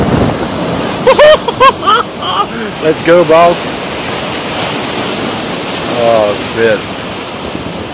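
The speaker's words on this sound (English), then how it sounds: "So that was the Pacific Ocean." Pacific Ocean surf crashes against a rocky shore in strong wind, a loud, constant roar with gusty microphone buffeting as people speak briefly over it.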